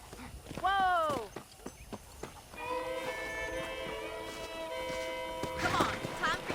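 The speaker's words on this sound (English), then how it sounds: "let's see if you can still ride a horse" Horse hooves clip-clop at a steady pace in the video game Red Dead Redemption, with a shouted voice early on and a sustained musical tone behind.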